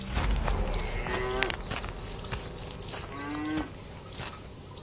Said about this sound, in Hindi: गाय जोर जोर से आवाज कर रही होती है।